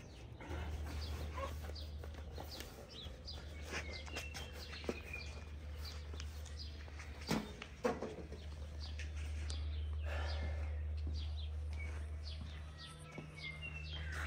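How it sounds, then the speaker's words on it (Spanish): Birds singing outdoors beside a home: scattered, faint chirps and calls come and go over a constant low hum, with a few sharp knocks. "escuchando el canto de los pájaros"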